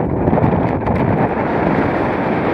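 Strong wind buffeting the microphone on a cold fell-top near Irton Pike and the Wasdale screes, a loud, constant roaring rush with no voices.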